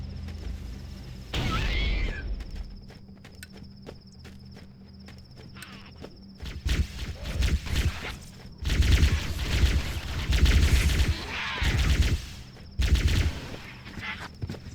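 Bursts of automatic gunfire in the video game Halo: Combat Evolved, several loud clustered volleys separated by quieter stretches, with faint game sounds between them.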